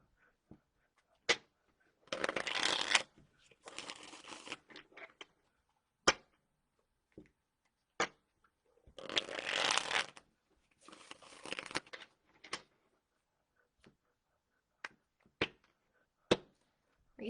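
A tarot card deck is shuffled in quiet, close bursts of riffling flutter, two longer shuffles separated by sharp single taps and clicks of cards being squared and set down.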